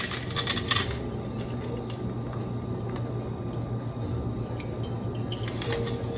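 Repeated soft chopping and pressing clicks from a metal pastry cutter working through cooked broccoli, close by, with a steady low hum in the background.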